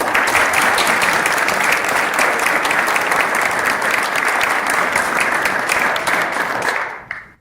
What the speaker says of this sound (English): round of applause for Kerry